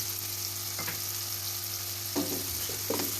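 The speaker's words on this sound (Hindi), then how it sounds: "मसाले को हम 5 मिनट तक अच्छी तरह से भून लेंगे।" Masala frying in a pan with stuffed green chillies for masala-stuffed bhindi: a steady, close sizzle with a few soft stirring scrapes, and no talking.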